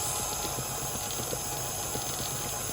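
An electric mixer beats royal icing made with egg white powder, a steady dense whirring hum that runs unbroken and close throughout.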